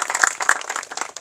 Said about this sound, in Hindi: ऐसा सोच के ताली बजा के समर्थन हो